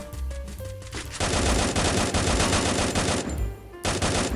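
Sustained automatic gunfire in a video game, a loud, dense rattle of rapid shots starting after a second and holding for nearly three seconds, then resuming after a brief pause.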